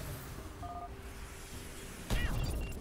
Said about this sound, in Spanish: ¡Hola, granada santa!